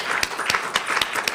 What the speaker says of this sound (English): just want to give another round of applause to all of those scholarship recipients